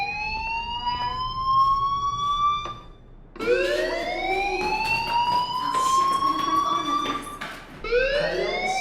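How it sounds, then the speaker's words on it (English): In the video game Life Is Strange, a fire alarm wails in loud rising and falling sweeps that repeat steadily, with a brief break before resuming. "Hey, do you hear that fire alarm?"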